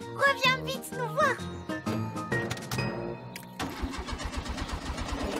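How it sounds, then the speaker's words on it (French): A cartoon car engine fails to start: a sequence of sputtering, cranking starter sounds with tinkling effects, mixed with a voice and other cartoon noises. "Zut alors, la voiture ne démarre pas."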